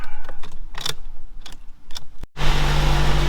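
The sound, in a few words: Jeep Cherokee engine running after jump start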